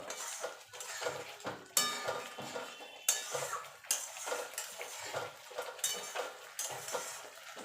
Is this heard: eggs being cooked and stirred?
yes